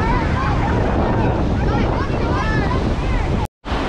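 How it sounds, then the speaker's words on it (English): Big ocean waves surge onto a Gulf beach at Orange Beach, Alabama, a loud continuous roar of surf mixed with heavy wind buffeting the microphone, broken by a brief dropout near the end. "there's some really big waves today"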